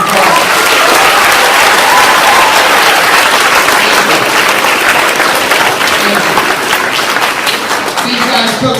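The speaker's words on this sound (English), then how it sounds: "Give these guys a round of applause." A school assembly audience applauds student helpers on the first day of school, loud sustained clapping from a large crowd with voices mixed in.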